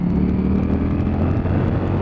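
A 2020 Ducati Streetfighter V4S motorcycle pulling hard in top gear from about 4,000 rpm with the throttle opened, a steady loud engine drone with wind rush, close and continuous.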